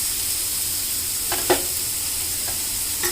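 Broccoli, cauliflower and other vegetables fry in homemade butter, a steady close sizzle with a few soft stirring scrapes and taps.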